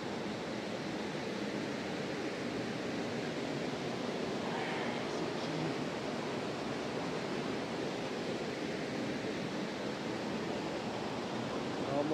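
A huge waterfall roars in a steady, unbroken rush of broadband water noise that stays loud and even throughout, with no voices.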